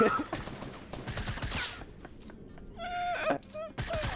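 Gunfire in Fortnite, a rapid burst of shots followed by scattered single reports, loud and close, with a player's voice and game sounds mixed in.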